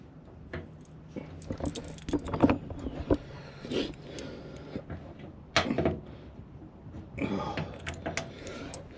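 Metal keys jangle and clink in scattered bursts amid handling noises and knocks on a Harbor Freight 6-bank service cart, close by, with soft talk mixed in.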